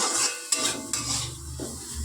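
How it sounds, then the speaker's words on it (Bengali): Carrots are being fried and stirred in a home kitchen pan, giving a soft sizzle broken by a few sharp metallic scrapes of the spatula against the pan. "এই যে গাজরটা ভাজছি"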